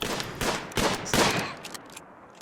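Rapid rifle fire from the video game RimWorld, a bolt rifle being shot repeatedly: several close, crackling bursts in quick succession that fade into a quieter tail, with no talking.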